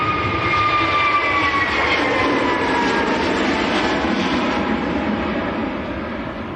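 A Jet2 Airbus A321neo airliner at Manchester Airport roars loudly and steadily as it passes close by, a broad engine rush with a whining tone that eases slightly toward the end.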